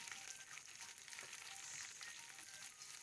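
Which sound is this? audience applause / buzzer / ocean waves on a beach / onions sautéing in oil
onions sautéing in oil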